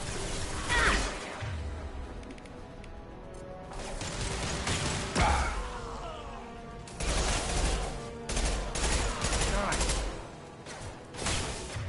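Loud shotgun blasts ring out in Mass Effect 2 amid a chaotic firefight, with several sharp bursts spread through the scene among other gunfire and crashes, while voices talk over the action.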